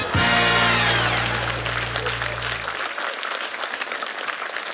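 A studio audience at a Russian-language comedy show breaks into loud, sustained applause that begins under a short musical sting, then carries on alone as dense clapping slowly tapers.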